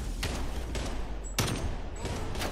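Rapid gunfire in the video game Call of Duty Black Ops Cold War, with several dense bursts and sharp loud shots in close succession and no talking.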